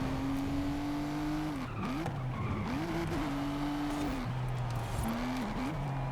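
A race car roars through a Forza Horizon video game race, its engine tone rising and dropping with gear shifts and brief tire squeals, steady and alone without speech.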